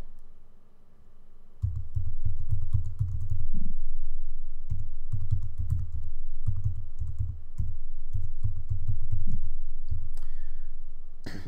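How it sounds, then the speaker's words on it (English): Typing a command on a computer keyboard, a close run of quick soft key clicks in bursts with short pauses, ending with a brighter tap. "then you type out the name of the file"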